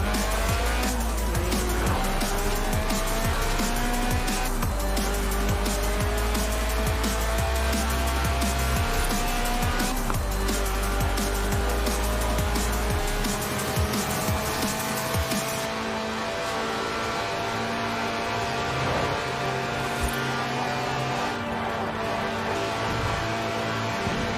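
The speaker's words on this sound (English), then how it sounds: "Yes, that's it. The honourable art of drifting." A Lotus racing car engine revs high in Forza Horizon 4 while tires squeal in long drawn-out drifts, loud and continuous throughout.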